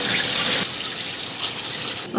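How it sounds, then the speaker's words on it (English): Running water from a kitchen tap splashes steadily into a pot as rice is rinsed, a close, continuous gushing rush that softens slightly partway through. "I wash my rice about 3 times so the water comes out there."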